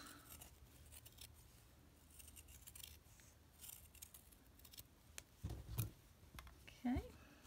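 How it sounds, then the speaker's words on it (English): Scissors cut around a piece of felt while making an ort bead and button flower brooch. A few soft, close snips come near the end over a quiet background. "And we'll cut around our felt."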